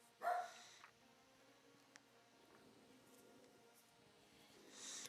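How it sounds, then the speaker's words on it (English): A dog gives one sharp, fairly close bark right at the start, followed by a quiet room with faint background hum and a soft rise of noise at the end. "our dog is barking at something"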